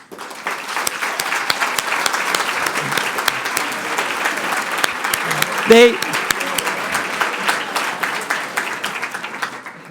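A conference audience at a welcome plenary stands and applauds its contributors, loud sustained clapping from many hands filling the room, with a brief voiced sound rising near the middle.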